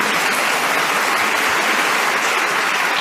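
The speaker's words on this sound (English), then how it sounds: "A justified round of applause" Studio audience applause on a British radio panel game: a continuous, even roar of many hands clapping, fairly loud and unbroken for about three seconds, with no voices over it.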